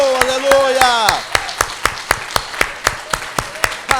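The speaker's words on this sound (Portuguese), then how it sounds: "Dá um aplauso ao Rei" Church congregation clapping in rhythm, sharp regular claps alone for a stretch after a voice sings or calls out at the start.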